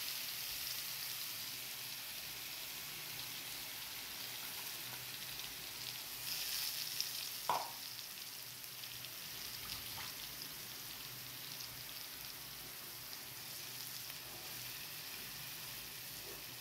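A soft, continuous sizzle of onion, garlic and coriander paste frying in a pan, fairly quiet and even, with one brief scrape partway through.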